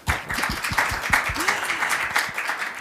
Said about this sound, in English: you can have an applause